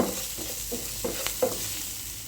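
Onions with salt and turmeric are stirred as they sauté in a pan: a soft background sizzle broken by four or five short, close scraping strokes of a spoon, with no voices.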